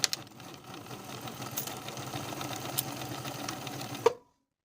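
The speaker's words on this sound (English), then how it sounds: "Sew from the top to the bottom of the line, backstitching to secure" A sewing machine runs steadily for about four seconds, stitching a pleat in pants fabric from top to bottom with backstitching, then stops abruptly with a final clunk; close and continuous, with no talking.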